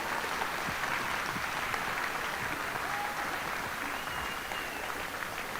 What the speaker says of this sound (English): How about another great round of applause for the GHS Combined Orchestras?